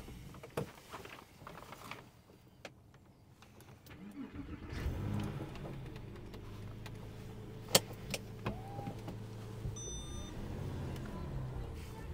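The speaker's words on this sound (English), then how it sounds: "And what I will do next is just to do a cold start." A Porsche 911 997.1 Carrera S cold-starts after a few quiet seconds: the starter catches around four seconds in, and the engine settles into a steady, loud idle with a sharp blip partway through.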